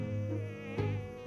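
Mosquitoes give off a steady, high, tonal buzz that continues without a break for just over a second, close and fairly loud, with no voices.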